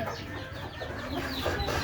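Native laying hens on a small backyard farm cluck in a steady, overlapping chorus at close range, with a low, constant murmur of birds underneath and no other clear sounds.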